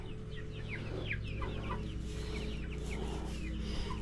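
Hens in a backyard flock cluck repeatedly in short, scattered calls over a steady low farmyard hum, fairly close and moderately loud throughout.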